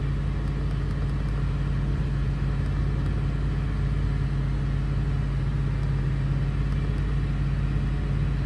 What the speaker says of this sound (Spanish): le subí las revoluciones